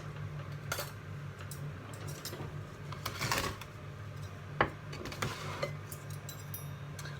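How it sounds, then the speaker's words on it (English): Cutlery cuts and scrapes through a piece of South African chicken pie on a plate, with scattered metallic clinks and taps against the dish over a faint steady hum. "Let me cut a piece before they come in."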